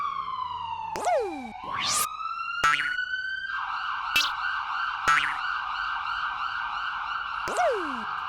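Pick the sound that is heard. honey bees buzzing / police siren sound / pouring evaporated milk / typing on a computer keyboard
police siren sound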